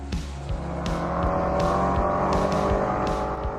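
A BMW 335i sports sedan with a 300-horsepower engine and paddle-shifted automatic runs hard around the VIR race track. The engine roar stays loud and steady, with rising and falling revs and quick shift breaks.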